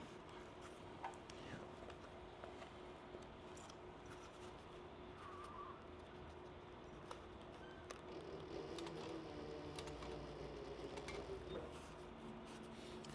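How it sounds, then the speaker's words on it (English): A sewing machine stitches over piping where a wing covers it on a cross body sling bag, a soft, quiet run of rapid needle ticks with small clicks against a faint room hum. "I'm sewing over where that wing is covering the piping"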